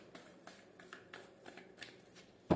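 Tarot cards shuffled and drawn from a deck, a run of quick papery riffles and flicks in close succession, fairly quiet and close, ending with a sharper thump as a card is set down.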